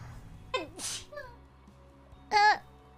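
A streamer sneezes once near the end, loud and close, after a few short vocal sounds and breaths in a quiet room.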